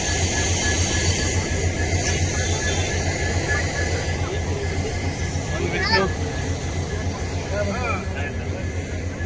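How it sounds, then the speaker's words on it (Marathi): A diesel locomotive engine idles at Beed railway station with a steady, deep rumbling drone that runs throughout, with faint voices in the background. "तिकडलं सुद्धा इंजिन चालू आहे"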